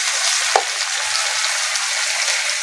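Chopped tomato and torn green chilli fry in a hot pan with a steady, close sizzle, broken by a single sharp knock of the stirring spoon early on.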